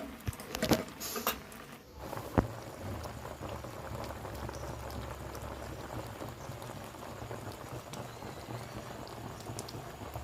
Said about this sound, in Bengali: দেখতে পাচ্ছ আমগুলো চিনির রসে সেদ্ধ হয়ে গেছে